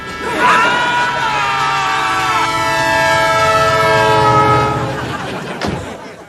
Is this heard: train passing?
yes